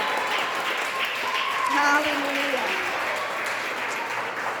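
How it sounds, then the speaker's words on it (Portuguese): A church congregation applauding during a Tuesday worship service, a continuous dense wash of clapping throughout, with a voice shouting over it. "Aplauda o Senhor em nome de Jesus"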